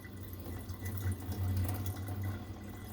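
Cold water drains off chopped apples in a bowl, a close, continuous splashing trickle with a brief gurgling swell partway through.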